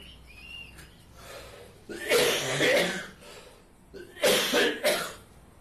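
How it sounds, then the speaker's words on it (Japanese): Two harsh coughing fits, each a cluster of several coughs, stand out close and loud against quiet background music. "また咳が出てしまいました。"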